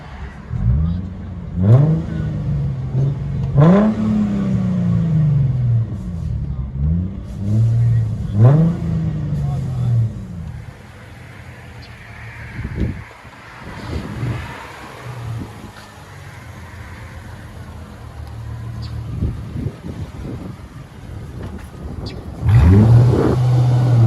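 A 2008 Chrysler Crossfire 3.2L V6 with straight-pipe exhaust, deep and raspy, revving repeatedly with sharp rises and falls in pitch, then settling to a rumbling idle before another rev.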